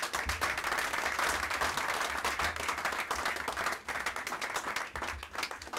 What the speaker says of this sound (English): I believe the government deserves a bigger applause than that.